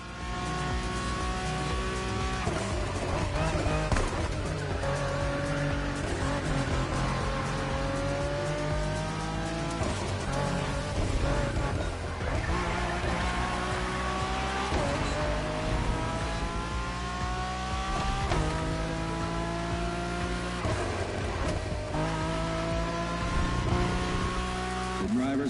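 Race cars in The Crew Motorfest rev and accelerate continuously, engine tones climbing and shifting through gears with repeated upshifts, loud and steady across the whole stretch with occasional tyre squeal.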